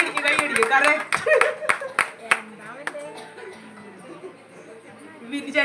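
A burst of hand claps from guests at a golden wedding anniversary celebration, sharp and uneven at first, then thinning out into murmured chatter and voices.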